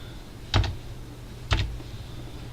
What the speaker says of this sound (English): So we've agreed on the password, so I'm typing it in so you can't see it